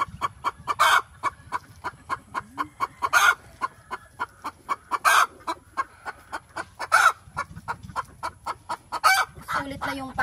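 Rhode Island Red and White laying hens clucking repeatedly in a steady, close rhythm, with several louder squawks and a few low calls in between, in a farm coop during egg collection.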